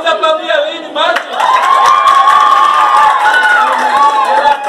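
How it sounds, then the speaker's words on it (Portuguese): An audience at a school art expo certificate ceremony claps and cheers loudly, with shouting voices and whoops rising over sustained applause. "Vamos aplaudir a Lini, Mati!"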